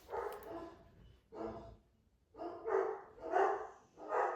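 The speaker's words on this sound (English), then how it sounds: "Oh my gosh, my dogs are nuts." Several pet dogs bark in a string of loud, rough woofs spaced about a second apart, fairly close indoors, with no talking over them.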